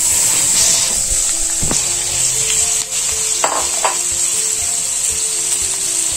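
Onion frying in hot oil with turmeric and chili for a pickle: a loud, constant hissing sizzle close up, with occasional clinks and stirring scrapes, and no talk.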